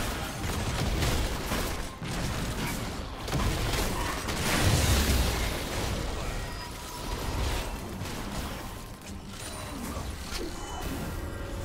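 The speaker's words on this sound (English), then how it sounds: "Red team's turret has been destroyed." A turret is destroyed in League of Legends, a dense wash of crashing, crumbling and popping game effects with mechanical clanks, loud and continuous with surges around the middle, and no voices.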